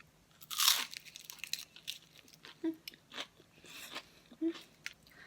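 Crisp bites and chewing on a crunchy egg tart: one loud crunch near the start, then scattered softer crunches and chewing sounds close by, with no talking.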